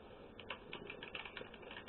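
A run of rapid keystrokes on a computer keyboard entering a command at the Linux command line on a RetroPie system, steady and close over a faint electrical hum, with no voices.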